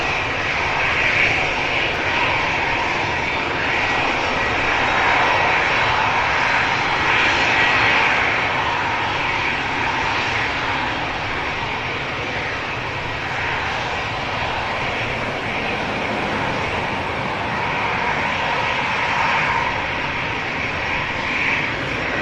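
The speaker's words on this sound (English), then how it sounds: "A beautiful VistaJet Lineage 1000 heading off to Farnborough next." A VistaJet Lineage 1000 jet roars steadily and loudly as it heads out from an airport, a continuous broad engine rumble and whine lasting over twenty seconds with no talk.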